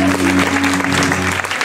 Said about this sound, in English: Everybody, just a quick round of applause.